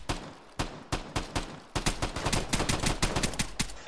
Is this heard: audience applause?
no